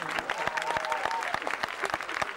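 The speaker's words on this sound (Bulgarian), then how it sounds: "Аплодисменти." Applause from a studio audience at a Bulgarian comedy talk show, a steady patter of many hands clapping at moderate volume with faint crowd murmur underneath.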